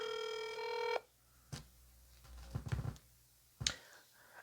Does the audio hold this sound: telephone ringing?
yes